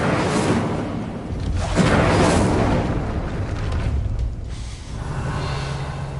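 Incendio fire spell cast in Hogwarts Legacy, a loud roaring whoosh of flame with booming bursts that swell and then settle into a lingering rumble.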